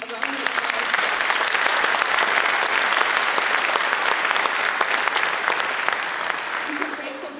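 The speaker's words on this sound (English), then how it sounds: "Would you give all of them a round of applause?" An audience at Hibbing High School's 100-year celebration applauds the event's sponsors, with loud, sustained clapping that fills the room for over seven seconds, swelling quickly and fading only at the very end.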